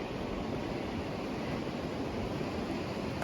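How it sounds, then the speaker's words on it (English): Creek water of the San Joaquin River flows beneath a bridge at Devil's Postpile National Monument, a steady, dense rushing roar with no pauses. "Taking the bridge over the creek."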